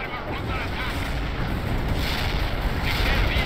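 Airstrike explosions in the video game World in Conflict, a dense rolling barrage of booms and rumbling blasts close by, with a voice speaking over the din.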